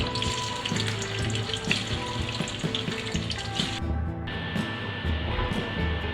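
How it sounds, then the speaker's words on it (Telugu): Pieces of boiled egg deep frying in hot oil for egg pickle produce a continuous bubbling sizzle at close range, steady throughout with a few clinks. "ఇలా రెడ్ కలర్ వచ్చేంత వరకు మనం డీప్ ఫ్రై చేసుకోవాలి"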